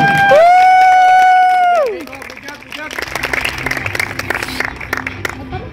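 At a swimming competition awards, a crowd bursts into applause and cheering after a sustained whistle-like tone, with clapping and scattered whoops continuing steadily in a large space.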